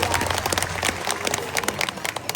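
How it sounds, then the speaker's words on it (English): An audience at Taronga Zoo claps for Bondi the rescued seal, a dense burst of many hands applauding close by, steady and lively for a couple of seconds. "Why don't we give Bondi a big round of applause to make him feel welcome?"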